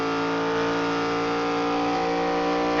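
An ARCA stock car engine at the Indianapolis brickyard, racing in a close pack, holds a loud, steady, close-up drone with strong harmonic tones as the throttle is opened, without a pause for the whole stretch.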